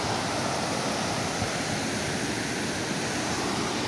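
A river rushes past in a continuous, loud broadband roar of flowing water, steady throughout with no voices.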